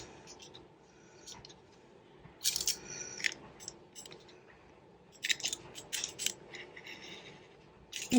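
Paper for a Z-fold tag is cut by hand, quiet bursts of crisp snipping and rustling in two clusters against a soft background.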